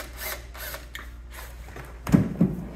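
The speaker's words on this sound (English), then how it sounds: "I found it's easy to start your first screw. Gonna run that into the first hole." A screw being driven into a pre-drilled metal plate on a hot tub, with brief whirring power-driver bursts followed by a louder close grinding finish near the end.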